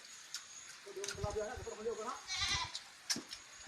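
Goat bleating nearby, one drawn-out wavering bleat mid-clip among scattered clicks and a quieter bleat afterward, with people talking around it.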